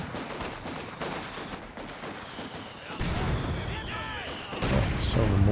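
Mortar fire in a Company of Heroes 2 1v1 match booms and crackles in heavy, overlapping bursts, rising in loudness toward the end beneath a commentator's voice.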